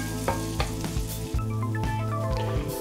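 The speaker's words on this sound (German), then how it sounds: "Jetzt tue ich einfach noch mal kurz die Frühlingszwiebel dazu und werde die auch noch kurz mit andünsten." Onions and spring onions sautéing in a pan, a close sizzle with regular scraping strokes of a spatula roughly every half second over a steady low hum.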